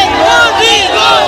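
A large crowd loudly chants political slogans in Bihar before politician Tejashwi Yadav's convoy, many voices rising and falling together in a dense, continuous roar.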